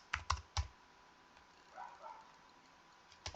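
A few quick clicks on a computer keyboard while working in an Excel spreadsheet, a tight cluster of taps followed by a lone keystroke, faint and close, with no talking.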